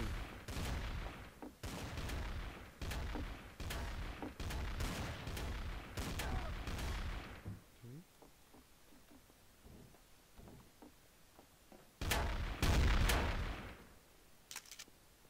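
Rapid bursts of gunfire ring out in a Garry's Mod Trouble in Terrorist Town round, repeated sharp shots through the first half, a lull of faint noise, then another loud close burst near the end.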